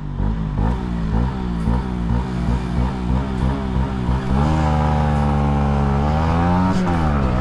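A KTM Duke and a Honda CB125R race, their engines revving hard up through the gears with rising and falling whines, close and loud, ending in a sustained high-revving drone.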